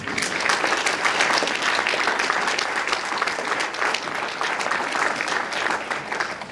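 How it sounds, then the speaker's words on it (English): A crowd at a community awards event breaks into loud, continuous applause, the dense clapping holding steady for several seconds without talk. "please give them a round of applause"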